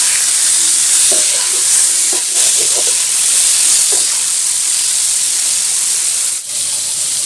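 Pointed gourd (potol) frying with salt in a pan gives a loud, steady hiss, while a few light clicks and scrapes of stirring come through in the first half.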